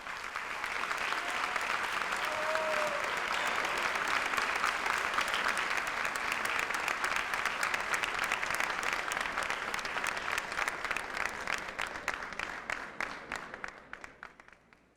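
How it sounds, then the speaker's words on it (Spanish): Sustained warm applause from a conference audience welcoming a speaker at an inaugural literature lecture, a steady dense patter of many hands that thins into scattered claps and fades near the end. "Por favor, recibamos con un fuerte aplauso a Jean-Marie Le Clézio."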